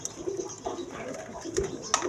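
Indian Kaldom pigeons, a breeding pair with eggs, give short, low cooing bursts at close range, fairly quiet, with scattered knocks and rustles between them.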